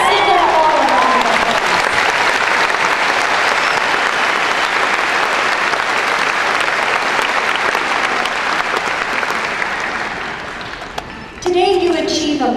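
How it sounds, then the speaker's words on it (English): A large audience at a business school graduation ceremony applauds in a long, loud, sustained roar of clapping that eases off before a speaker's voice returns at the end. "Let's give them all a round of"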